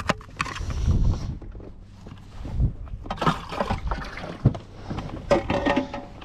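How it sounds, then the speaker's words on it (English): Wind gusts across open lake water around a small fishing boat, a steady rushing blow with low buffeting and some knocks and splashing against the hull, no voices. "So windy since we're way out here."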